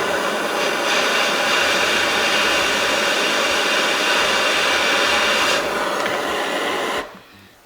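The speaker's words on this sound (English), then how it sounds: "Put on my butane torch." Butane torch heating a dop to free a cut gemstone, a loud steady close hiss lasting about seven seconds before cutting off abruptly.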